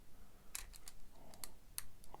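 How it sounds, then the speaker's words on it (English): Sharp, faint metallic clicks come from lock pins as a lock is picked with a pocket pick, several quick isolated ticks spread out over a quiet background. "nice little click out 3"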